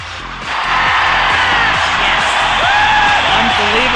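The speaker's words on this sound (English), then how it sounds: "The crowd is roaring" A big crowd roars and cheers loudly and without a break, a dense wash of noise with some individual voices standing out.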